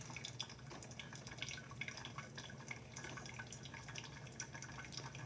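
A new Mr. Coffee coffee maker drips steadily as it brews, faint irregular droplets falling into the pot over a soft continuous hum, close by with no talking.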